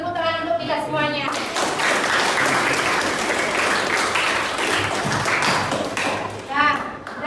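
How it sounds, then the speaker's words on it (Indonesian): A classroom of students bursts into sustained applause, dense overlapping clapping that holds for several seconds before tapering off, with voices heard briefly before and after it. "Beri tepuk tangan untuk kita semuanya."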